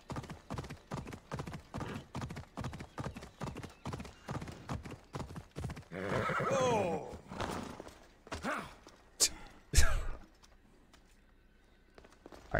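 Hooves clip-clop in a rapid, steady rhythm as a horse gallops in Assassin's Creed Odyssey. A whinny rises in the middle, then the gait slows to a few heavy thuds and a sharp snort before it falls quiet.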